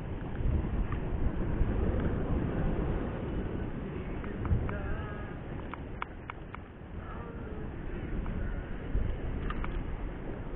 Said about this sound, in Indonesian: Oh, anginnya kencang sekali,